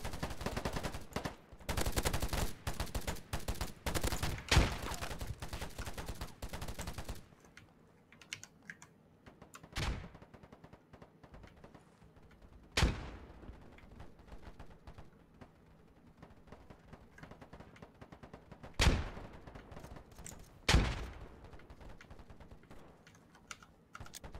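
Gunfire in the online shooter video game Polygon: dense rapid automatic bursts fill the first seven seconds, followed by a few isolated sharp shots spaced seconds apart over a quiet game background.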